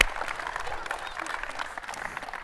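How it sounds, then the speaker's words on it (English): A crowd at a youth football clinic gives a round of applause for Hunter Henry, with brisk, close clapping and cheering that carries through the whole brief moment, mixed with voices. "please give me a round of applause for Hunter Henry."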